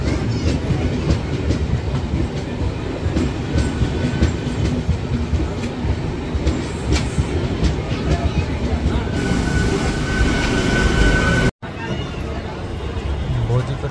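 Lalkuan–Howrah passenger train pulling out and running, its steady loud rumble and rhythmic clickety-clack of wheels on rail joints filling the whole stretch, with a brief dropout near the end and voices faintly underneath.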